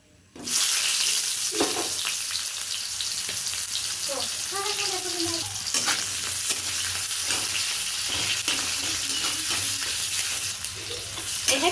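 Onions fry in a pan of hot oil with whole cinnamon and chili for a fish curry, a steady loud sizzle running throughout with occasional stirring scrapes and a brief voice.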